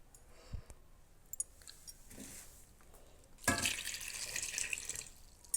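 Torn gongura (sorrel) leaves are washed under running water. Faint clicks and handling come first, then a tap opens into a steady, close rush of water splashing over the leaves.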